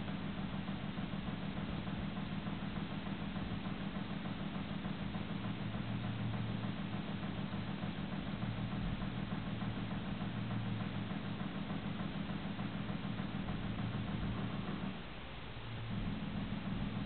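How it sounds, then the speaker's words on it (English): Quickstep stepper motor turning at very low speed, driven from a bench power supply, giving a steady, continuous low hum and faint cogging vibration throughout with no talking. "there's a little bit of cogging noise from the motor"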